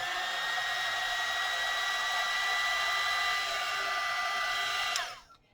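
A heat embossing tool blows hot air with a steady whining whoosh and motor hum, close and loud, running alone for about five seconds before switching off and spinning down.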